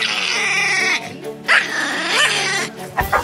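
A dog barks and yelps loudly and close, a sustained run of excited barking with short breaks, during a chaotic encounter with a badly behaved dog.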